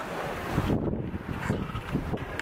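Wind buffets the microphone aboard a sailing boat crossing the English Channel out of sight of land, loud, rough gusts with no speech.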